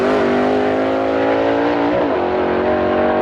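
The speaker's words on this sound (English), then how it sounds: "Just listen to him as he goes through the gears right here." A Southeast Gassers drag race car at the Montgomery event blasts loudly down the strip, its engine wailing as it climbs through the gears with a sharp shift partway through, loud and close throughout.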